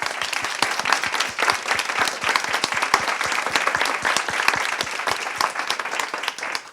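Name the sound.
applause for panelists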